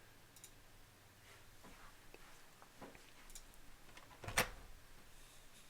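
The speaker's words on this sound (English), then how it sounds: "And yeah, the keyboard's loud." Scattered keyboard key clicks ring out very close to the microphone, sparse and irregular, with one sharper clack standing out among faint ticks in a quiet room.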